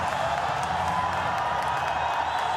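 A stadium crowd at a Pakistan vs Sri Lanka ODI roars steadily in celebration of Babar's century, a dense, continuous wash of cheering and applause with no break or swell.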